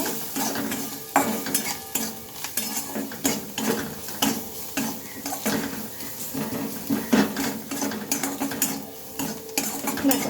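Ingredients mixed by hand with chilli powder, salt and turmeric give close, uneven scraping and stirring clatter against a bowl, in bursts of rubbing and knocking that rise and fall in loudness.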